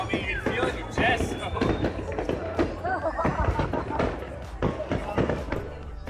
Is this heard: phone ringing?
no